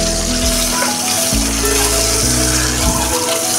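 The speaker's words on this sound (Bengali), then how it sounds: "আগে ডিমগুলোকে ভালো করে ভেজে নেব, সুন্দর করে এপিট ওপিট উল্টিয়ে উল্টিয়ে লাল করে ভেজে নেব।" Eggs frying in a pan for a Bengali spiced egg curry, giving a steady close sizzle over a low, uneven rumble throughout.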